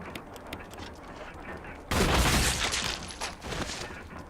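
A shotgun blast in Resident Evil HD hits suddenly partway through, a loud broadband burst that rings out and decays over a second or two, over a low game backdrop with no talking.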